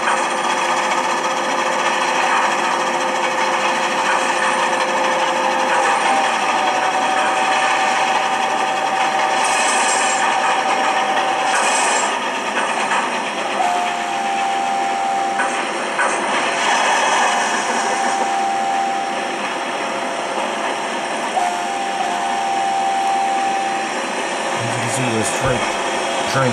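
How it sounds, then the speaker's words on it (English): A train at the Strasburg Railroad rolls past nearby with a loud, continuous mechanical roar and clatter, and several sustained whistle-like tones rise above the noise over about half a minute. "Train's right there."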